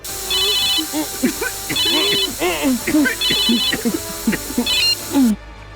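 A mobile phone rings on unanswered, repeating bursts of electronic ringtone cutting through a man's speech and background music before it stops.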